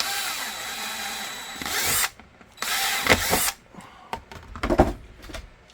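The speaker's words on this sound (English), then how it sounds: "I always drill for 1/4 inch." A power drill with a quarter-inch bit bores through holster material during a Ruger 5.7 holster build, several bursts of loud whining drilling separated by short pauses and quieter handling noises.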